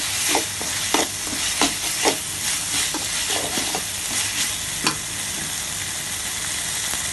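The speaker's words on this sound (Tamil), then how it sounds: "இது நல்லா இந்த வாசனை போகிற அளவுக்கு, நல்லா பச்சை வாசனை போகிற அளவுக்கு நல்லா வதக்கி எடுத்துங்க" Ginger garlic paste sautés in a pan for a village-style rabbit curry: repeated spatula strokes scrape through a bright, hissing sizzle, the stirs coming in an uneven rhythm before the frying settles into a steady crackle.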